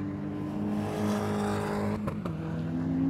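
Race cars in an all-comers race at Snetterton roar past, a loud sustained engine drone with shifting pitch and a brief gear-change break, heard close to the track.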